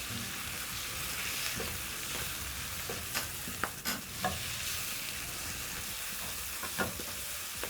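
Baby spinach seasoned with salt and black pepper wilting in a hot pan, a steady close sizzle with a few light stirring scrapes and taps, no voices.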